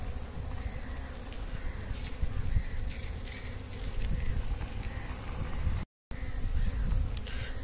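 A dense swarm of honey bees hums continuously around beehives near flowering mustard fields, a close, steady buzz broken by one brief gap.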